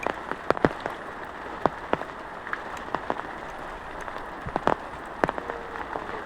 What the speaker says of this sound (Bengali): আজকে সারা রাত বৃষ্টি হয়েছে, বা এখনও হচ্ছে বৃষ্টি।